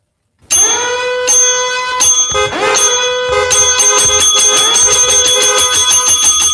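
A bright metallic bell rings loud and close, sounding in a quick series of repeated strikes. Each strike rings on with sustained shimmering overtones, and no talk is heard.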